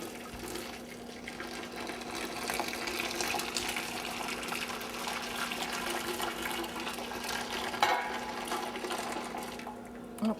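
Boiling water poured from a kettle or pot into a bowl for Jell-O Supreme, a steady trickling splash lasting about ten seconds with slight surges, close and moderately quiet with no talk.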